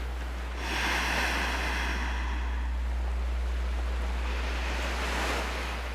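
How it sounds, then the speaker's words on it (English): Ocean waves surge and wash in broad rushing swells, rising then easing, with a steady low hum running underneath. "the sound of the waves when the window is open."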